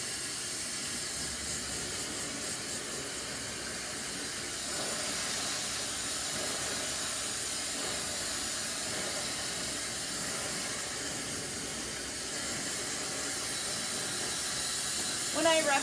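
A hair dryer blow-drying a client's hair in a salon demo, a steady loud airy whoosh running throughout with slight shifts in pitch and strength as it moves, and no clear talk over it.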